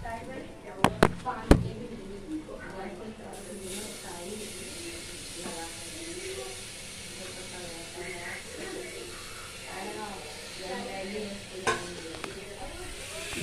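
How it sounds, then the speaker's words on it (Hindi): Tomatoes and grated ginger hit hot masala in a pan at home, giving a steady frying sizzle with stirring after a few sharp clanks at the start, while someone talks over it. "अब इसमें मैं डालूँगा टमाटर और अदरक कद्दूकस किया है मैंने, ये देखिए। अब मैं इसको डालने जा रहा हूँ।"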